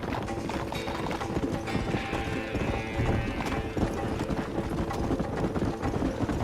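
Horses gallop in Red Dead Redemption with a steady, dense clip-clop of hooves, loud and continuous against game ambience, while voices talk over the riding.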